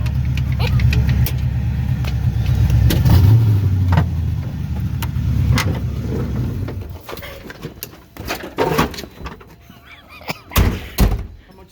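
A junkyard Fox-body car revs hard and spins its tires, a loud rumbling engine roar that fades after several seconds into scattered thumps and clunks nearby.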